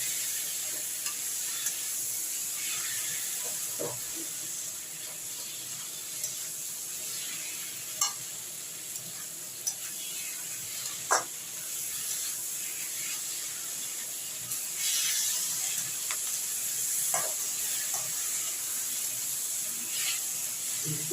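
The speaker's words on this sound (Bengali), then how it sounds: "এবার আমি এগুলোকে একসঙ্গে একটু সব কিছু মশলা একসঙ্গে ভালো ভালো হওয়া পর্যন্ত ভাজতে হবে।" Spices frying together with chicken and green chillies in a pan for dhaba-style chicken, a steady sizzle and hiss throughout with occasional scrapes and taps of a stirring spoon.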